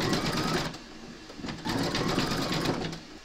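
An embroidery machine stitches white thread on an in-the-hoop cuddly penguin design, its rapid steady needle chatter running close and continuous with a brief dip in the middle before resuming.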